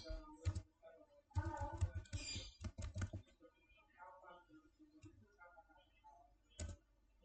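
Keys clatter on a computer keyboard as ipconfig is typed into a command prompt, coming in short irregular bursts of clicks with quiet gaps between them and no voice over them.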